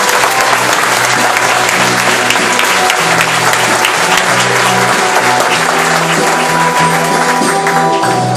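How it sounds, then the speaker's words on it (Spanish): A congregation at a religious retreat applauds steadily and loudly throughout, a dense wash of many hands clapping with no pauses and little else audible. "aplauso para el Señor Jesús."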